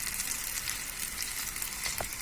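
Chicken gola kebabs frying in oil, a soft continuous sizzle and crackle with occasional sharper pops, fairly quiet and close, no voices.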